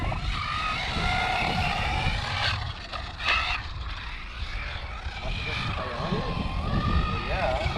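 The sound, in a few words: ARRMA Typhon RC car motor, throttle going on and off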